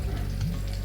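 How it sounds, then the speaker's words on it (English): Salmon croquettes frying in a pan, a steady dense sizzle heard close and alone for a brief moment. "let it fry on the other side for about 4 minutes"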